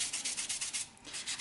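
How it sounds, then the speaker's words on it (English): Rhythmic back-and-forth strokes of sandpaper rub over a chalk painted quilted glass mason jar, quiet and close, about eight quick scrapes in a row. "But you're able to come in and give this quilted jar a sanding"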